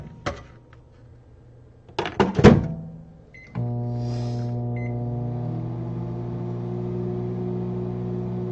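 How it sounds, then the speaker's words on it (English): A kitchen microwave oven heating a dish for a minute and a half: a few clicks and beeps from the door and keypad, then a steady, even mechanical hum that runs unbroken to the end. "Pop this bad guy into the microwave for a minute and a half."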